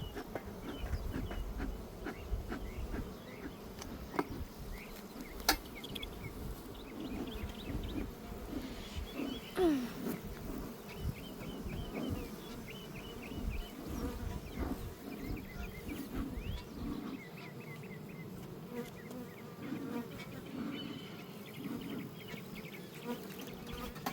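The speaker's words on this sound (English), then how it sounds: "Look at all those bees." Honeybees swarming around a hive during a summer hive check, a dense fluctuating buzz of many insects close by with individual bees passing near, no voices.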